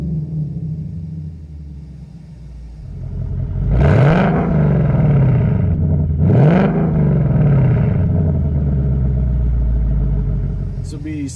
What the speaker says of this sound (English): Okay, now we've gone normal drive mode, normal exhaust